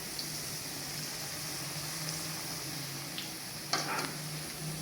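Kadhi simmers gently over low heat in a pot, a steady soft sizzle and faint bubbling running unbroken throughout, with a brief scrape or clink near the end.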